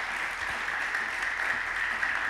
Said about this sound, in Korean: 하나님께 영광 올리는 박수를 한꺼번에 힘차게 한번 드리겠습니다